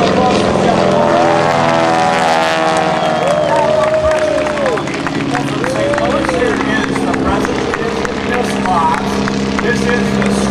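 A propeller aerobatic airplane flown by John Mohr at the Fair St. Louis Air Show drones continuously, its engine pitch rising and falling as it arcs overhead, under an announcer's amplified commentary and crowd noise.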